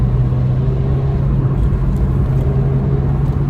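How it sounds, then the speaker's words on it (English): A Peugeot 206 GTI engine pulls hard in third gear with a steady, loud, low rumble and drone heard from inside the moving car. "Third gear pull now."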